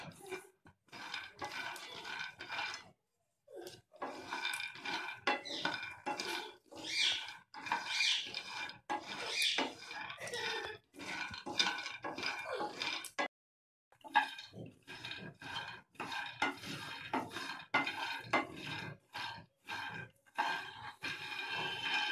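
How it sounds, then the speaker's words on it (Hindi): Peanuts dry-roast in a pan without oil, stirred steadily so they rattle and scrape against the metal in close, repeated strokes with a few short pauses. "अभी हम मूंगफली को अच्छे से भून लेंगे। दोस्तों, ऐसे ही हमको भूनना है"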